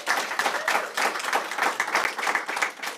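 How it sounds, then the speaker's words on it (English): An audience at a Kingfisher library event celebrating a new community access portal claps together, a loud, ragged burst of many hands with individual claps standing out, and no one speaking. "Let's clap"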